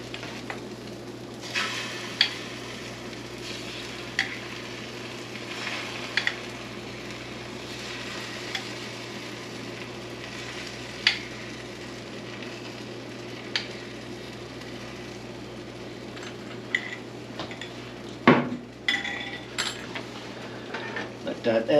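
Egg omelette cooking in a pan: a low steady sizzle runs throughout, broken by occasional clinks and scrapes of a utensil against the pan, with a louder cluster of scraping near the end.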